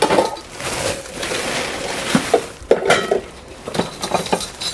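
Metal utensils and a steel lunch box clink and clatter at close range, several sharp knocks and rattles scattered unevenly over steady room noise in a forest household.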